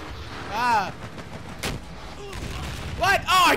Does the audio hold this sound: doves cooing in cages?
no